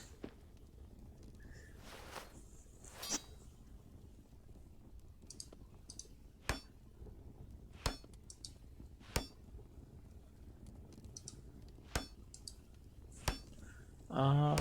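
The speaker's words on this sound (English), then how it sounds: "Let's craft a steel hammer, baby." Crafting a steel hammer in the video game Moria produces sharp metallic clicks and clinks spaced every second or so, loud against a quiet low background hum, with a brighter clatter right at the end.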